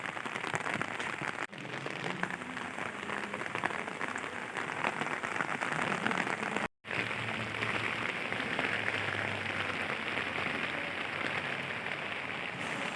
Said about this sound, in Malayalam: ചാറ്റൽ മഴ മാറി ഇപ്പം ശക്തമായ മഴയായി